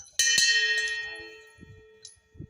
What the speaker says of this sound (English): So let's have a ding of the bell.